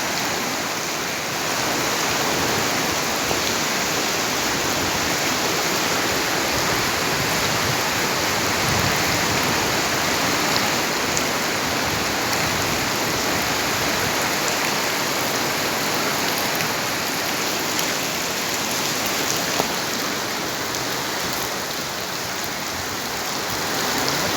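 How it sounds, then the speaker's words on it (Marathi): Floodwater rushing over a bridge in heavy rain, a loud, steady roar of torrent and downpour with no pauses. "पाणी कसा आवाज बघा पाण्याचा"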